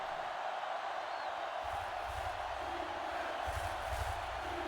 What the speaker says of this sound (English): And this Janitors crowd already roaring, trying to make disruptions in the huddle.